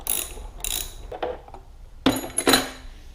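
A ratchet wrench backs out 10mm bolts on a motorcycle seat bracket, giving quick bursts of rapid clicking pawl strokes with short pauses between, close and crisp with no voices.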